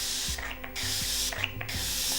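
Colourpop Pretty Fresh hyaluronic acid setting spray gives three quick mist sprays in a row, each a soft, close hiss lasting about half a second, with faint handling rubs between them.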